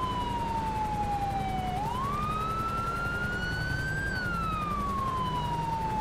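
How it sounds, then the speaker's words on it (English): Police car siren wailing alone, its pitch sweeping down, then rising sharply and falling again in a slow cycle, steady and moderately loud over a low background rumble. "Can you turn your siren off?"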